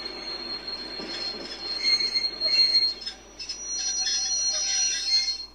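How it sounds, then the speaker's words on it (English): Train wheels squeal and screech against the rails in shifting high-pitched bursts as a train slows, steady rumble underneath. "the train stops."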